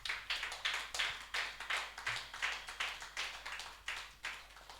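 A church congregation claps in a steady rhythmic beat, roughly four to five claps per second, moderately quiet and unaccompanied by speech.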